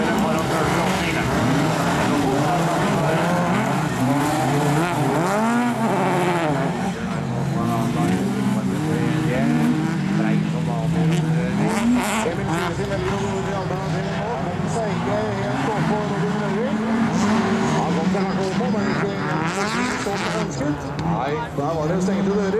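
Rallycross cars of the over-2400cc Supercar class racing at Finnskogbanen, engines droning and revving continuously at steady loudness while a commentator talks over them in Norwegian and Swedish.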